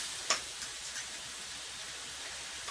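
Garlic sizzles steadily in a hot pan for a chicken casserole, a soft, even hiss with a single sharp click near the start.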